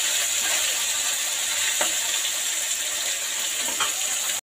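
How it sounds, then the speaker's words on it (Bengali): Magur catfish frying in a pan, a steady, dense sizzle of hot oil running without pause, with a couple of faint clicks and no talk. "আমার জীবনের প্রথম আমি ফার্স্ট টাইম এই মাগুর মাছ ভাজছি।"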